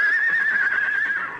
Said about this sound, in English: It's not one of our horses. It's too far off.